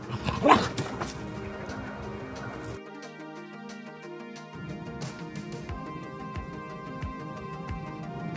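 An Entlebucher Mountain Dog barks aggressively, a loud close burst of barking at the start followed by scattered yips over a background music track.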